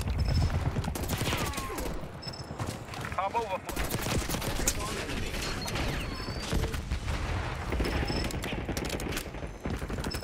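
Hip-fire gunfire in the video game Black Ops 6, with dense rapid bursts of shots running almost the whole way through, loud and continuous, with a voice talking over parts of it.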